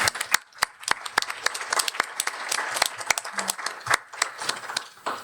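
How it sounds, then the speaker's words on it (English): An audience at a panel event on protesters' rights claps in a round of applause, a moderate spread of many hands with no voices over it. "let's just give them a round of applause"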